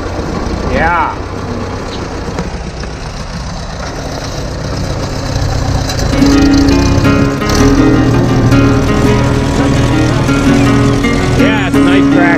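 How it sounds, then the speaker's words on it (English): A tractor engine runs steadily close by, with a PTO mechanism engaged, its low droning rumble growing louder and holding a sustained tone in the second half while people talk over it. "it's a nice tractor"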